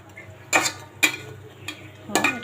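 Hilsa fish frying in a pan of spice paste, with a spatula scraping and knocking against the pan in four sharp, separate strokes over a low sizzling background.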